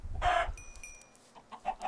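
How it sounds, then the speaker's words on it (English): Minecraft chickens cluck in a survival game, one close cluck followed by several softer clucks, with a thin tonal game sound between them. "there's chickens everywhere"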